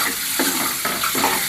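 Eggs frying in masala for an egg kurma, a close, continuous wet sizzle with bubbling and spattering pulses, brief and without speech.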